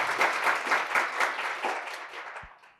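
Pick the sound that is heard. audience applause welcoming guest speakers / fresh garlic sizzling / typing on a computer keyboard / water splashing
audience applause welcoming guest speakers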